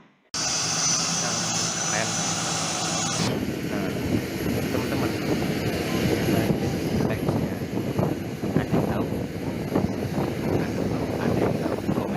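Steady roar of a fixed-wing airplane's engines, loud and continuous with wind buffeting, running throughout under scattered speech.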